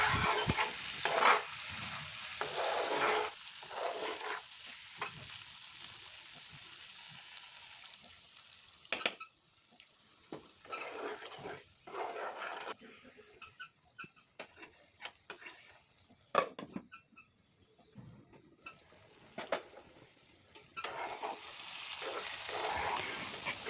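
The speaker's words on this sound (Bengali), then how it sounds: "আবারও কিছুক্ষণ কষাবো আর চুলা আঁচটা একটু মিডিয়ামে রাখতে হবে আর নাড়াচাড়া করতে হবে যাতে নিচ থেকে লেগে না যায়" Dry coral fish bhuna with tomatoes and chilies frying in a pan over medium heat, stirred repeatedly: a soft sizzle broken by scraping and clacking of a spoon against the pan, close and uneven.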